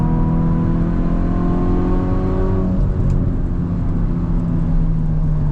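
Hyundai i20 N or i30 N hatchback engine on the Nurburgring, a loud steady drone whose harmonics fall away as it drops into third, then settles into a rougher, broader roar under constant road and wind noise.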